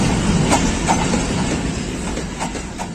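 Jaffar Express train on Pakistan Railways rolling past close by, a loud continuous rumble with rhythmic clickety-clack of wheels over rail joints throughout.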